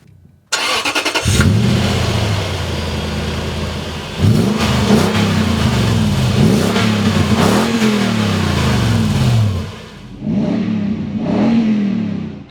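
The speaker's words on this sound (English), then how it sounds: "here's our first cold start with the new Magnaflow Overland Series Cat-Back Performance Exhaust System" A car fitted with a Magnaflow Overland Series cat-back performance exhaust cold-starts, catching with a sharp burst, then revving repeatedly in rising and falling surges before settling briefly and revving again, loud and close with no talking.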